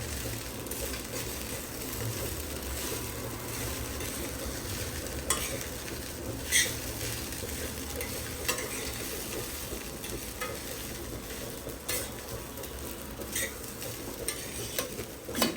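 Poha cooking in a pan, being stirred steadily with a soft continuous frying hiss and occasional scraping clinks of the utensil against the metal, no voices.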